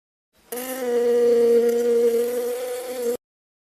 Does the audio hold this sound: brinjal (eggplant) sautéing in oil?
no